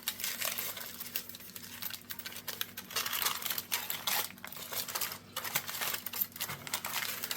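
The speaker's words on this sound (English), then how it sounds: "We're going to unwrap it and we're going to cut it up." A wrapped smoked eye of round roast is opened with a continuous close crinkling and rustling of wrapping, with scattered small taps and crackles.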